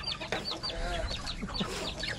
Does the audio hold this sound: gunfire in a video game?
no